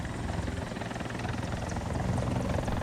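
Mi-24 attack helicopter in the video game War Thunder, a steady close rotor thrum and turbine drone filling the whole stretch without any talk.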